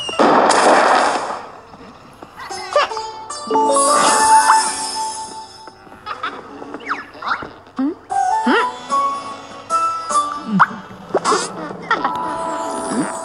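Fireworks launched in a mobile video game, with bursts of crackling and popping explosions followed by tonal game effects and jingles, fairly loud and repeated.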